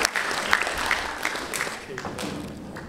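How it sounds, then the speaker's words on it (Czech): Audience applause at a Czech class reunion gathering, a dense stretch of clapping from many hands, steady and fairly loud throughout with a voice briefly over it. "Pojďme, Májo, všichni zatleskat."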